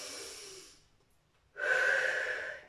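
An older adult's deep inhalation during a seated shoulder and hip mobility workout, one long audible breath drawn in after a short pause, close and clear.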